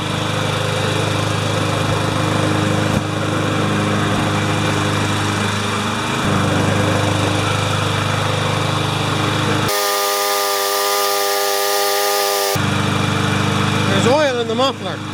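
An MTD lawn mower with a Briggs and Stratton engine runs steadily up close with a constant drone. It has an out-of-balance blade and oil in the muffler. A brief higher tonal blare interrupts partway through.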